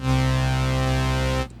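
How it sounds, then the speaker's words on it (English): A single buzzy, bright sawtooth tone from a modular synthesizer's quad VCO holds steady at one pitch for about a second and a half, then cuts off sharply. "I have a sawtooth coming out of the quad VCO."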